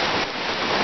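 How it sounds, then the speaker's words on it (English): Heavy rain pours down steadily onto waterlogged ground, a dense, even hiss close by with no break across the short stretch. "It's raining that much."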